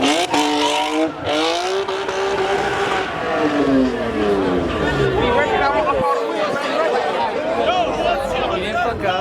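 At a busy car meet, a new Supra drifts with engine revs rising and falling and tires squealing, all loud and continuous beneath excited crowd chatter.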